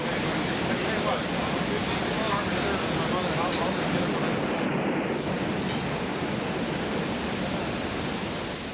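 Rough, violent sea waters surge and crash continuously in a dense, loud wash of broadband noise, with wind buffeting throughout and no clear pauses between swells.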